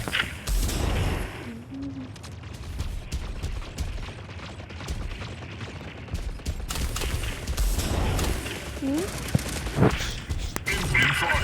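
Mechs firing in the video game Mech Arena, a dense, continuous barrage of gunfire and booms with heavier blasts scattered throughout, loud and busy with mechanical game effects.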